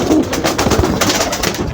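A pigeon coos close by, low throaty rolling calls repeating through the short stretch.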